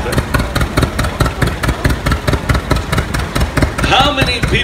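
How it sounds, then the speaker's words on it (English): A 1963 Massey Ferguson 97 tractor engine idles close by at a parade, its steady rhythmic chugging pulsing evenly throughout, with a faint higher whine creeping in near the end. "Bruce Brown brings through a 1963 Massey Ferguson 97."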